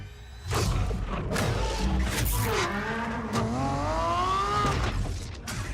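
A powerful Lamborghini engine roars up close, revving and climbing in pitch through a couple of quick gear changes before settling into a steady snarl.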